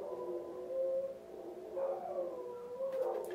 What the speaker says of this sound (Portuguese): Agora tá uivando, ó.